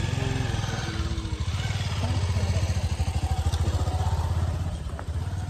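Several motorcycles idle together on a hilly road, a continuous low chugging engine rumble that stays loud and steady throughout with a faint clatter on top.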